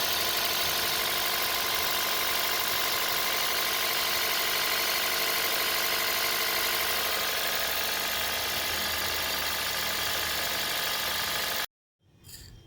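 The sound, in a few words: Toyota Aqua engine idling after throttle body cleaning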